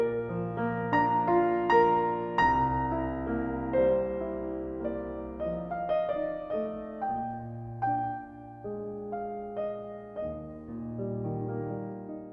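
A Chickering concert grand piano plays a slow, rich passage of chords and melody, with notes ringing and decaying. It sounds close and clear, with no voices over it.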